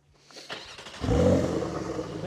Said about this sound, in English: which sounds something like this. Please start the car up.